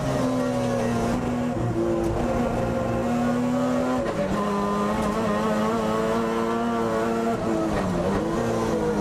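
Several touring race cars at the 2017 Leinster Trophy meeting, including a Corrado, roar uphill toward a corner. Loud sustained engine notes rise and shift as the cars jostle close together, with no voices heard.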